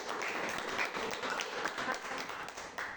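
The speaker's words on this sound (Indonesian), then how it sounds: "mari kita beri aplaus lagi" Students in a classroom clapping together for a microteaching lesson on ecosystems, a dense, steady wash of many hands close by that holds for several seconds without talk.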